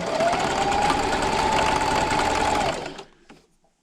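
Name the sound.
sewing machine back stitching a pocket placemat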